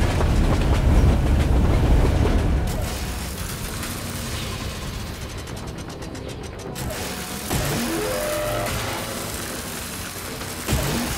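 A train rumbles past in the shooter game Wolfenstein II, a loud, steady roar of rolling wheels and rattling mechanisms that eases slightly midway, with clanking metallic hits and a sharp clunk near the end.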